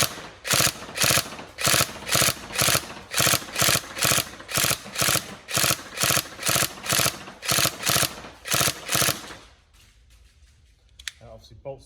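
A Tokyo Marui MP5A5 NGRS airsoft electric gun fires a long series of rapid three-round bursts, each a sharp mechanical rattle with brief pauses between, close and loud, before the gun falls quiet with a few faint clicks.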